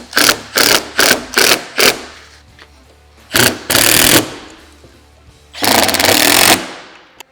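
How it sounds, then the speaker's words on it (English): A power tool fully tightens windshield mounting hardware on a Can-Am Maverick X3, close and loud: five quick rattling bursts, then two longer whirring runs and one sustained drive, with quiet gaps between. "we're going to go ahead and fully tighten it all."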